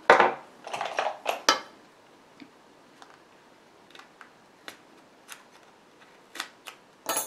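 Bladed tool slicing the seal on a new, unopened bottle of purple nail polish: a cluster of sharp cutting snips and scrapes up close at first, then sparse faint clicks and light taps.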